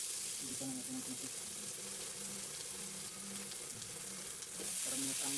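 Ingredients stirred and mixed in a hot pan, with a steady sizzle of frying under scraping and stirring strokes throughout, close and moderately loud.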